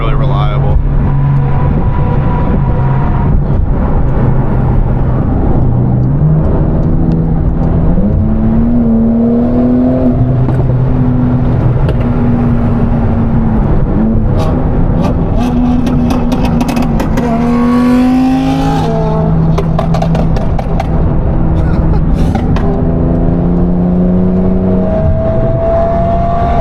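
A 1,000 hp Porsche Turbo S and an Audi R8 fitted with an F1-style exhaust rev loudly, their engine notes rising and falling in sweeping pitches over a steady dense roar, with talk mixed in.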